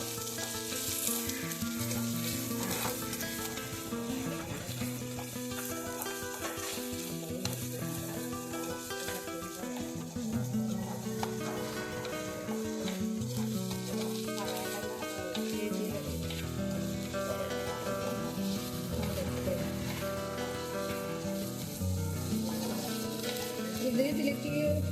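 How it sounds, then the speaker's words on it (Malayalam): Curry leaves, ginger and two garlic cloves sauté in a pan with a continuous sizzle and occasional stirring, partly covered by loud tonal music running throughout. "കറിവേപ്പിലയും ഇഞ്ചിയും 2 അല്ലി വെളുത്തുള്ളിയും കൂടി ഇട്ടിട്ട് ഒന്ന് വഴറ്റിയെടുക്കണം"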